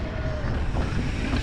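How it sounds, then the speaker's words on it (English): Steady wind rushes across the microphone during a mountain bike climb on a mullet-setup bike on a very windy day, a loud continuous low roar with no talk. "It's super windy today."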